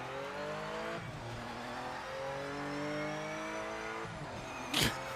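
Car tyres squeal and skid in the racing game Project Motor Racing over a steady revving engine, with long sliding tones and a sharp burst near the end.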